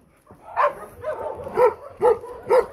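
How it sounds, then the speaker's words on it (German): Dogs bark at an animal shelter housing many dogs, a run of about five close, loud barks in an uneven rhythm, with fainter barking in the background. "momentan leben hier 65 Hunde"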